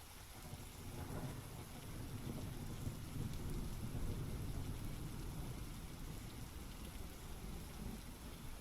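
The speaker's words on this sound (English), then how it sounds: "Now we get thunderstorms." Thunderstorm with steady heavy rain and low rolling thunder, a dense continuous wash of rainfall with deep rumbling underneath, no voices.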